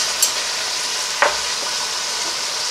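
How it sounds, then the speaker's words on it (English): Vegetables sautéing in butter for cheeseburger soup give off a steady, fairly loud hiss, with two brief utensil clicks against the pot. "We're gonna saute them up until they're nice and tender"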